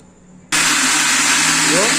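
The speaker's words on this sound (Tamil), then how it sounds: "ஸோ இந்த மிக்சி ஜாரில் பாதி அளவுக்கு இதை போட்டுட்டேன் இது இப்போ வந்து அரைக்கணும்" A mixie jar grinding soaked adai batter ingredients starts abruptly after a short quiet moment, then holds a loud, steady whirring roar close by.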